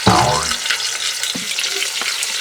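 Garlic sautés in a pan for pork chop fried rice, a close, continuous hissing sizzle with a couple of soft stirring scrapes.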